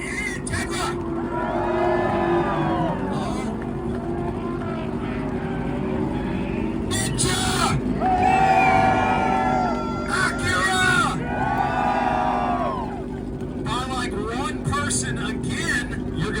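Honda Integra engine revving hard at an outdoor 2-step rev battle event in Chandler, Arizona, several rising and falling rev bursts and pops over a constant crowd hum, with people talking and cheering underneath.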